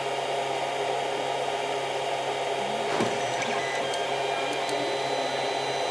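A Creality CR-10 3D printer runs with its nozzle freshly heated, giving a steady close whirring hum with a short scrape and a few faint clicks near the middle.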